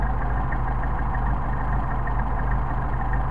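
A Mercedes 190SL with Solex carburetors idles at about 1,000 rpm, a steady close-up engine hum with an even low throb running unbroken throughout.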